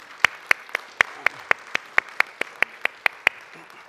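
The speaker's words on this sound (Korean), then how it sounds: "우리 다시 한번 박수하겠습니다" Church congregation applauds the choir in slow, evenly spaced claps, about a dozen sharp unison beats roughly a quarter second apart, clear and close with no talk.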